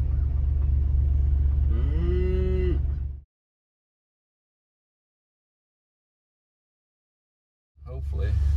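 On a farm, a cow with her newborn calf lets out one long, bending moo close by over a low engine rumble, followed by a stretch of silence before the rumble returns.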